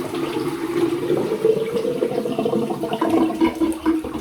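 A hot water tap runs steadily into a sink to rinse a razor during a wet shave, a continuous close splashing stream that holds an even level throughout, with no talking.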